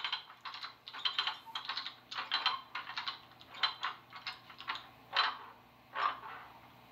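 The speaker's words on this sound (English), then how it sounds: "That is the sound of the handbrake being applied." A SoundTraxx Tsunami SoundCar decoder on model train rolling stock plays its handbrake-applying effect: a quiet, fairly even series of ratcheting clicks that slows and spaces out toward the end.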